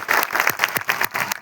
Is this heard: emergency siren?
no